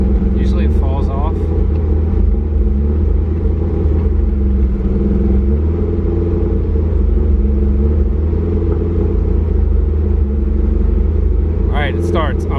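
A car engine runs loudly with a deep steady rumble throughout, close by, with a few brief higher rattles near the start and end.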